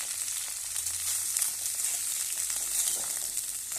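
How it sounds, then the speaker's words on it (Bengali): Home-grown cauliflower pieces fry lightly in a pan, giving a steady, dense sizzle with small crackles throughout. The sound stays close and continuous, with no voices over it. "ফুলকপিটা আগে দেখো ভেজে নিচ্ছি"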